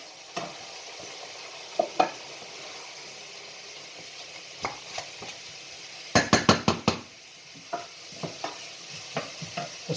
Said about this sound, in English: We've got the onions, ginger, garlic and green chilies cooking away.